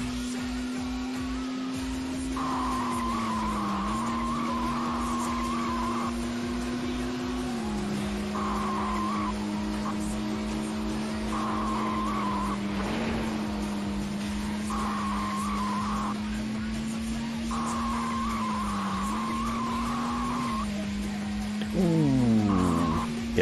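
Car in the racing game Test Drive 4 sliding sideways with a sustained tire squeal over a steady engine drone and background music, loud and continuous, ending in a rising rev near the end.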